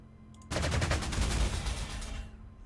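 Rapid strafing gunfire from fighter bombers in the World War II strategy game Panzer Corps 2, a loud sustained burst of rattling shots that starts abruptly and fades out near the end.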